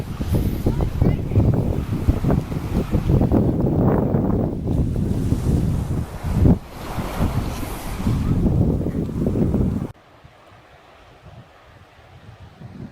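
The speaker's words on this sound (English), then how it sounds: "It's the Bay of Fundy tides going back out." Bay of Fundy tidal water rushing back out at Hopewell Rocks, a loud continuous roar of flowing water and surf buffeted by strong wind noise, which then drops abruptly to a quiet background near the end.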